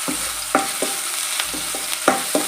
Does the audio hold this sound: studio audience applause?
no